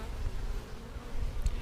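A honeybee swarm being checked in bait boxes gives off a low, steady buzz from many bees, fairly close and quiet, with a few louder passes near the end and no talking.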